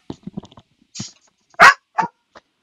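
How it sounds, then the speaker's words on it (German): A dog in the video game Yamawari: Lost in the Dark gives a few short, sharp barks, one loud and close, mixed with softer yips and small scuffling sounds. "der Hund hat irgendwas, stimmt da heute nicht"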